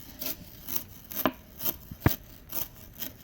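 A metal chain rubbed back and forth as a foley stand-in for sawing, giving short rasping strokes in an uneven rhythm, close and fairly quiet with a few sharper scrapes.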